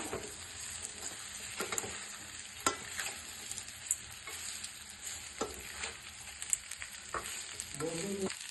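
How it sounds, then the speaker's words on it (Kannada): Cooked idli pieces stirred and tossed in a hot pan for masala idli, a steady sizzle with repeated scraping strokes of a spoon against the pan, close and continuous with no voices. "ಬೇಯಿಸಿ ಕಟ್ ಮಾಡಿರೋ ಇಡ್ಲಿ ಪೀಸಸ್ ಹಾಕ್ತಾ ಇದ್ದೀನಿ ಚೆನ್ನಾಗಿ ಮಿಕ್ಸ್ ಮಾಡ್ಕೋಬೇಕು"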